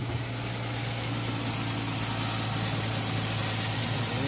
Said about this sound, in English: Sound like a pulley is going bad. Like the bearings on a pulley might be the water pump.